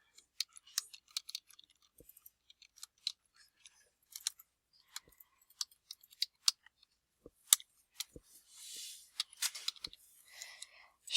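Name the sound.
typing a personal business letter on a computer keyboard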